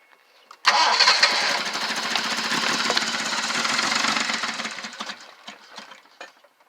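A 1978 Jaguar engine firing up for the first time in 25 years: after a moment of quiet it catches abruptly and runs loudly and roughly with a clattering knock, then fades and sputters toward the end.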